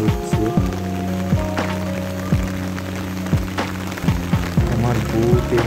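Heavy rain pours steadily on the way to the railway station in Mahishadal. A continuous broadband wash runs under sustained tonal sounds and a few sharp knocks throughout.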